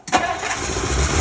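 A Ford Thunderbird engine cranks briefly on its starter and catches, firing into a close, loud, steady rumble within about a second.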